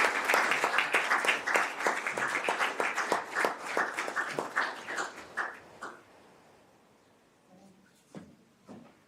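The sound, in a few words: applause at council award presentation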